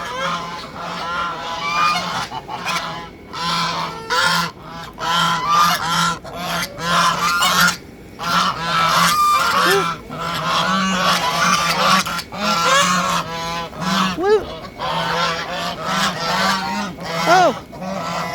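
Farm geese and other fowl honk and clamor loudly near a freezing pond while being fed carrot peel scraps, a dense, continuous chorus of overlapping honks with a voice briefly heard.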